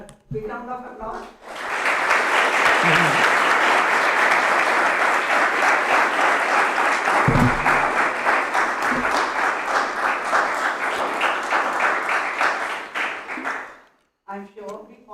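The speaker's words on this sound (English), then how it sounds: "Let's give him a big round of applause." Sustained audience applause at a Haṭha Yoga talk, loud and steady for about twelve seconds before fading out, with brief talk at the start and end.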